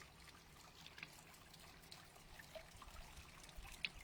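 A garden fountain runs outdoors on a cool fall day, its water trickling and splashing softly in a continuous faint stream with a few small drips standing out.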